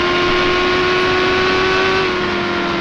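Simulated Indy car engine in the NASCAR Racing 2003 game, a loud steady whine that slowly drops in pitch as the car slows, heard alone.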